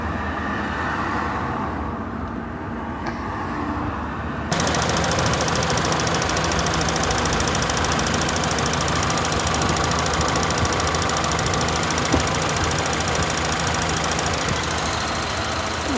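A Daewoo Nexia with a freshly rebuilt engine runs in cold weather. After a few quieter seconds the engine note jumps to a loud, steady, even idle that drones on close to the microphone without talk.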